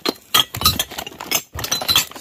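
Vintage glassware, including pirate-themed and clear glasses from an abandoned storage unit, clinking as pieces are handled, several sharp bright clinks in irregular bursts with brief pauses between.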